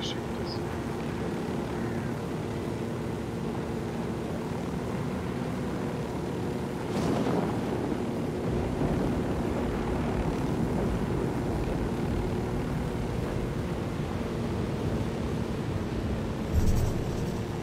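A helicopter in a tactical shooter video game drones steadily with a low rotor and engine hum, a constant mechanical tone that swells a little midway and persists under faint game sounds.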